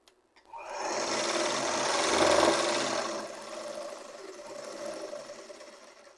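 A sewing machine stitches fabric around a corner in one loud, continuous whirring run that dips slightly as it turns, then fades to a stop.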